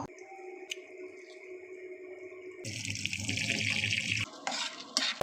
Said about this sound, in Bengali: এক চাক লেবুর রস দিয়ে মাছের টুকরোগুলো ভালো করে ধুয়ে নিব